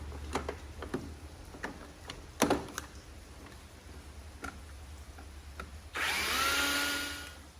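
Power drill boring into a wall at a light-switch spot, a loud whirring burst near the end that lasts a second or two, after a run of scattered light ticks and taps.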